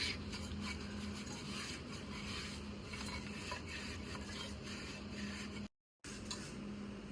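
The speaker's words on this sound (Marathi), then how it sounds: "आतून बाहेरून असं चोळून तेल लावायचं" A cotton cloth rubs oil over the inside and outside of an unglazed earthenware clay cooking pot, giving a steady close-up scrubbing and rasping friction that continues without a break except for one brief silent gap.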